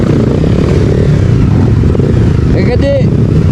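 A motorcycle revs its engine on a dirt offroad trail through an onion field in early-morning darkness, with a steady loud drone throughout and a voice speaking near the end.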